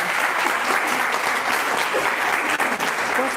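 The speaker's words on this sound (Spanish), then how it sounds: "Un fuerte aplauso para la doctora." Sustained audience applause for a doctor at a heart-health lecture, a dense, steady wash of many hands clapping that holds at an even level throughout, with no talk over it.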